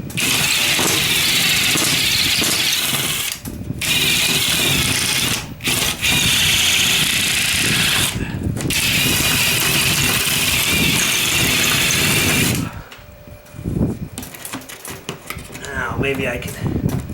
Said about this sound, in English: So I can just use the drill bit as a cutter.